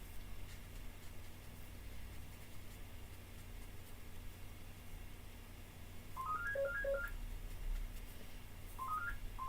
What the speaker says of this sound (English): He's already warned me that there's going to be a phone call.